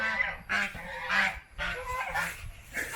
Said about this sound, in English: Oh, crazy birds.